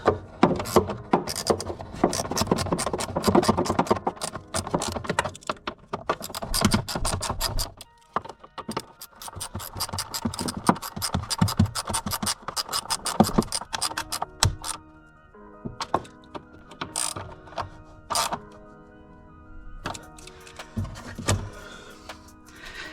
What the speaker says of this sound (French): plus qu'à visser. J'ai déjà engagé les vis.